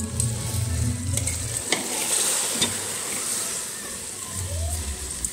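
Masala for aloo matar tahri sizzles in hot oil as a spoon stirs and scrapes the pan, a close steady fry with intermittent stirring scrapes and clinks.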